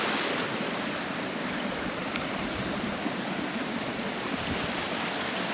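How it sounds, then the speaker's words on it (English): A stream of water rushes down a steep, mossy wooded hillside, a loud, continuous broadband roar with no pauses and no voices. "You can see how much water this is coming down that hill, guys."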